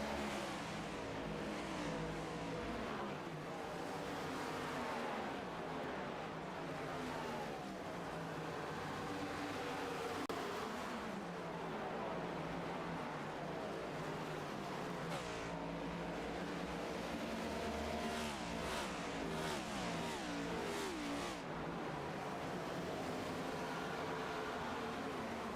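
Race cars in a sim racing cup series run side by side down the back straightaway: a continuous, steady engine drone with overlapping revs and passing surges, dense and unbroken for the whole stretch.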